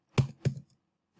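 Keystrokes on a computer keyboard while entering data in an Excel spreadsheet, two quick close clicks followed by a pause and a final tap, near and fairly quiet.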